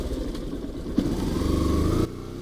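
A motorcycle carrying a passenger pulls away close by, its mid-pitched engine rising steadily as it accelerates, then easing off near the end.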